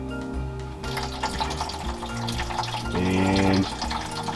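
Coolant pours steadily out of a Fox Body Mustang radiator in a continuous liquid stream, close and fairly loud, and swells briefly toward the end.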